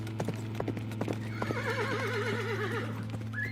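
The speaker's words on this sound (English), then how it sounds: "We rode in silence, except for the clopping of the horses' hoofs." Horses' hooves clopping at a steady walking rhythm, mixed with a neighing whinny, close and clear with no talk.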